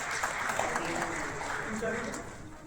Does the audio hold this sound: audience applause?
yes